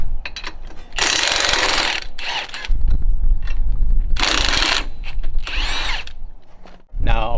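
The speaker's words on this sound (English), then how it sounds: "Now we can go ahead and remove our lower shock bolts." An 18mm lower shock bolt on a 2021 Ford Bronco is spun out with a power tool during a leveling kit install, in several loud, close bursts of whirring and ratcheting broken by short pauses.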